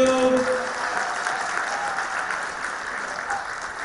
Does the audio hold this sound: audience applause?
yes